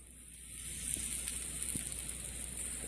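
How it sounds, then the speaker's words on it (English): Steady, close crackling sizzle of salmon frying in a hot pan, with a bright hiss and occasional small pops. "Love that sizzling sound."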